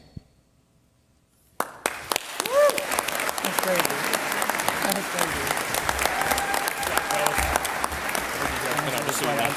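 Applause from the audience at a formal DeMolay International Congress session, breaking out suddenly after a moment of quiet and continuing as steady, full clapping to the end.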